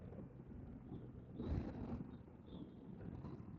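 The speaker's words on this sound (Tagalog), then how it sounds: "Lakas ng hangin mga idol." Strong wind buffets a motorcycle or scooter rider on a long ride, a steady, loud, low roar with gusts swelling and easing throughout.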